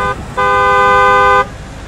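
A car horn blares twice in an animated street scene with fossil-fuel cars and motorbikes, a short toot followed by a longer, loud honk over a low traffic rumble.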